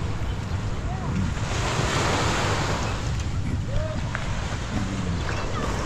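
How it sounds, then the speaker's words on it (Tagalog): Steady, soft wash of sea waves with light wind noise, continuous and fairly even, no distinct crashing. "Tahimik po ang dagat, hindi ganun kalakas ang hampas ng alon."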